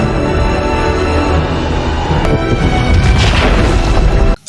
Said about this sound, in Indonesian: hingga terjadi ledakan hebat dan mematikan seluruh pasukan Chitauri yang berada di bumi